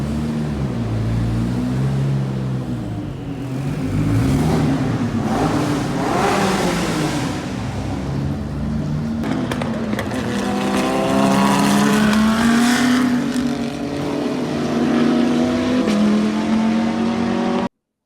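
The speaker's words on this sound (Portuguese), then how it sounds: "Isso aqui é uma BMW GT de corrida, beleza?" A BMW GT race car at the Interlagos circuit revs hard and steadily, its engine note rising and falling through repeated accelerations, loud and continuous with no talk.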